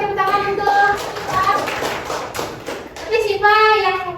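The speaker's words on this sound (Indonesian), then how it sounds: "tepuk tangan untuk" Applause in a classroom, many hands clapping together in a dense, sustained patter from start to finish, with children's voices overlapping the clapping.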